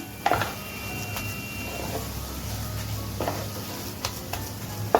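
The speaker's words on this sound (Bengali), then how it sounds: "ঘিটা মিশিয়ে নিচ্ছি" Ghee is stirred into a coconut mixture in a pan for narkel naru, with a soft scraping and gentle sizzle broken by a few sharp spoon knocks against the pan.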